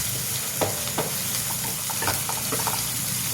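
Onion, green chilies and garlic sizzle and fry steadily in a pan, a continuous close crackle with a few louder spits and stirring scrapes, no talk.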